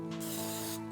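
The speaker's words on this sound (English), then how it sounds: "Miss Leslie, we need the spray" A can of cooking spray lets out one short, steady hiss lasting under a second, close and clear, as it is sprayed while making a berry crisp in a kitchen.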